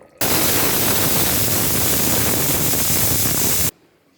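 Pressure cooker whistle from a pot of chicken curry, a loud continuous steam hiss that starts abruptly, holds steady for about three and a half seconds, then cuts off sharply.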